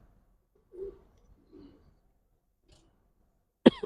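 A long-bodied male Giribaz pigeon gives a few soft, low coos up close in a quiet setting, ending with a brief sharp click or tap.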